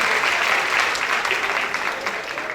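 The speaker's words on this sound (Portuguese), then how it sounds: "Salve de palmas pro Cleiton," A seated audience at a youth talk show in Penedo claps for a guest, a dense burst of applause that fades slightly toward the end, with a few voices mixed in.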